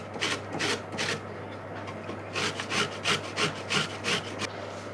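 Small courgettes being grated for a chocolate cake, close rhythmic rasping strokes in bursts with brief pauses between, over a low steady hum.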